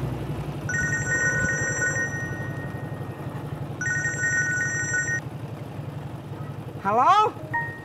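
A mobile phone ringtone plays in two repeated melodic bursts, close and fairly loud, over a steady low room hum. A short rising electronic chirp follows near the end.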